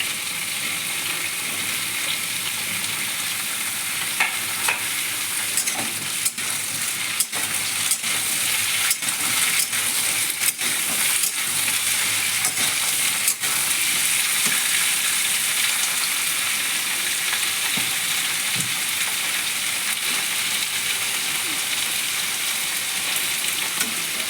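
Cut, washed eggplant sizzles steadily in a hot pan, a loud continuous frying hiss running throughout with occasional small crackles and clinks, no voices.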